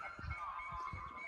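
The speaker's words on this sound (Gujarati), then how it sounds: "અમારા ગામમાં ભગવાનજીએ મોર બોર્યો એટલે મોરનો અવાજ આવી ગયો છે" A peacock calls in a village: one loud, drawn-out, honking cry with a nasal tone, heard alone at moderate distance.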